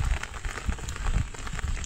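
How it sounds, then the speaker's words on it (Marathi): Heavy monsoon rain pours down at a hilltop temple, a loud, dense and steady roar of drops hitting surfaces close by, with no voices. "पावसामुळे काम थांबलेलं आहे आणि पाऊस पण किती जोरात आहे बघू शकता आपण"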